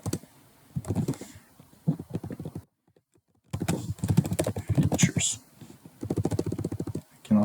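Bursts of clicky typing on a computer keyboard mixed with a person talking, with a short silent gap partway through and quick, uneven keystroke rhythms close by.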